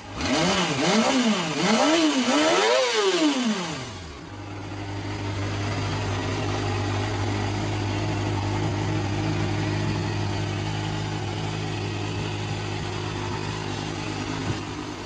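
A Yamaha FZR 250 inline-four 250cc sportbike engine revs hard in rising and falling sweeps for about four seconds, then settles into a steady, loud idle-like drone that carries on alone.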